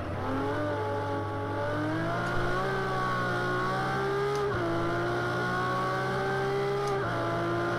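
A Ferrari race car in Project Cars 2 on PS4 screams as it accelerates, its engine pitch climbing steadily with sharp drops at gear changes, loud and alone with no talk.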